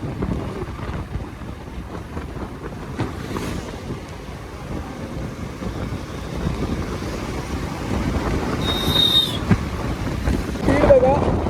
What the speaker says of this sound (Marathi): जशी जोरात हवा सुटलेली आहे